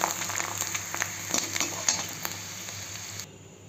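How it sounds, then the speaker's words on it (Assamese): A chaku papad frying in a kadai with a little water clinging to it, giving a close, steady sizzling hiss with scattered crackles and light metallic clinks. There is no talk. "এইখন চাকুৰ পাপৰ এইখন ভাজি লওঁ"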